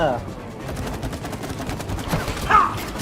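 Rapid fire from a game weapon in It Takes Two, a dense stream of gunshots running throughout under excited talk, with a brighter burst near the end.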